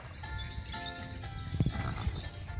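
A horse on a farm at a garden resort in Davao gives a drawn-out whinny with a few hoof thumps near the end, heard outdoors over a busy background of ambient noise.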